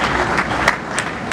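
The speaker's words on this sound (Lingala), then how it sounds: "Est-ce que nous pouvons applaudir très très fort le Seigneur?" A congregation at a funeral church service applauds loudly for the Lord. The clapping is dense and sustained, a full crowd whose loudness stays fairly even throughout.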